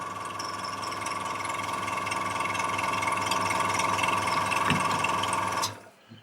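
A Sparmax TC-2000 airbrush compressor runs while filling its tank, making a steady, close, rattling motor drone with a high whine. It stops abruptly near the end and falls almost silent.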